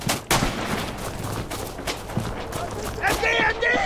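Rapid machine gun fire in a Red Orchestra 2 Stalingrad battle, sharp repeated bursts close by with overlapping distant shots throughout, and voices shouting partway through.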